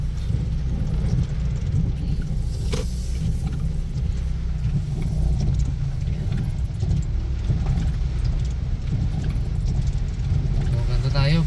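A car drives along a road, heard from inside the cabin as a steady low rumble of engine and tyres while a person talks over it.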